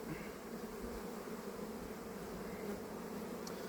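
Honeybees at an open hive colony, a dense, steady buzzing hum from many insects, close but quiet and continuous, with no voices.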